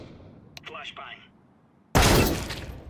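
A flashbang grenade goes off in a Counter-Strike match, a sudden loud broadband burst with a lingering ringing hiss near the end, after a stretch of quieter game sounds and voice chatter.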